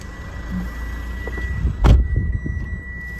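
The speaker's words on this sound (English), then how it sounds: "Turn the car on." Mitsubishi Triton GLX+ ute engine starting inside the cab: a short cranking burst followed by a low, steady idle rumble, close and moderately loud, with a faint electronic tone in the background and no talking.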